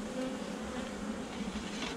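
A honeybee swarm buzzes, caught in April beneath its parent colony, as a dense, steady, close hum that carries evenly through the whole stretch with no voices.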